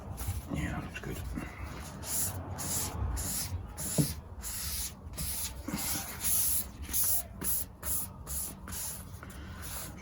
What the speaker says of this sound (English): Should just squirt some moisture across the guitar body and then wipe it back